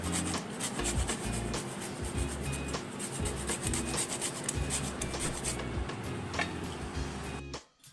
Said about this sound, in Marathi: आता याच्यात मी वेलची पावडर घालते आणि जायफळ घालते किसून